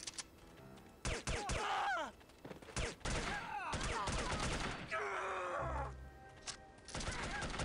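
Bursts of gunfire in the spy shooter The Operative: No One Lives Forever come in several loud volleys between quieter stretches, mixed with groans and game effects.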